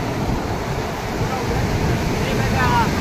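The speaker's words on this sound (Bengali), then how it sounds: "দেখো কি উত্তাল সমুদ্র।" Rough, churning sea surf rolls and breaks continuously along a crowded Goa beach in the morning, a loud, steady wash with wind buffeting the microphone throughout.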